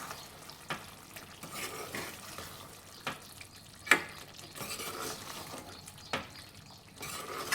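Chicken curry with coriander stirred in a pan, soft sizzling broken by several sharp scrapes and clacks of the spoon at irregular intervals, fairly quiet and with no speech.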